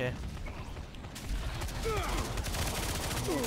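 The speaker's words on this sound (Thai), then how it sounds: "ปืนพกที่เป็นปืนพกรัวนะฮะไม่ได้ยิงทีละนัดนะฮะ" Rapid automatic pistol fire from the Wraith character in the video game Lawbreakers, a fast, busy stream of shots that stays steady and close, with a voice talking under it.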